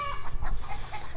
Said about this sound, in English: it's something like the rooster, you hear the chickens making all that noise